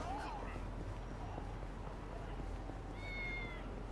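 A cat meows a couple of times in the video game Yakuza: Like a Dragon, with short tonal calls at the start and again near the end over steady game background noise.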